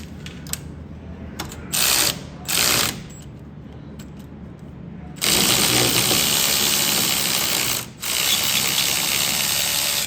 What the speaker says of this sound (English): So you usually have to end up wrenching this out.